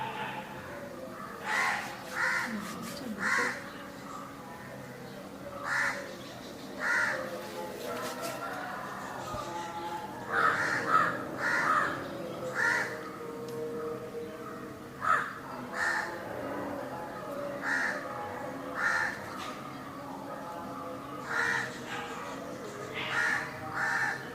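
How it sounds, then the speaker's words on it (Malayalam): A crow caws repeatedly at a distance in short harsh bursts, while a person talks steadily in the foreground. "ഈ കാക്ക ഭയങ്കര ശല്യമാണ്"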